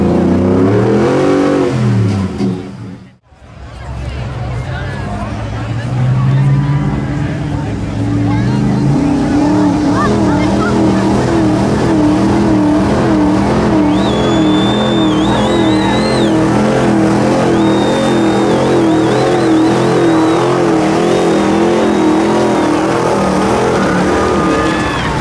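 Pulling truck engine at a truck pull, roaring loudly and continuously with shifting revs after a brief dropout, heavy under an announcer's voice and crowd.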